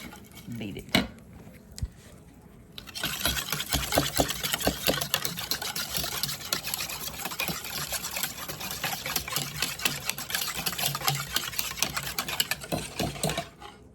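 A metal wire whisk beats protein pudding in a bowl. After a quieter start, rapid, steady clinking strokes rattle up close and run on without a break.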